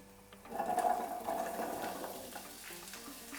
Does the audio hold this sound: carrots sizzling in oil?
yes